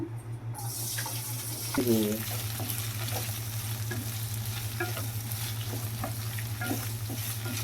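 Pieces of ivy gourd fry in a pan while being stirred, giving a continuous sizzle with scraping stir strokes and a low steady hum underneath, close and with no talking.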